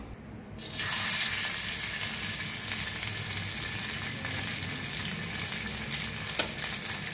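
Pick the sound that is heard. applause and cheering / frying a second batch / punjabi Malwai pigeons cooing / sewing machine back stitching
frying a second batch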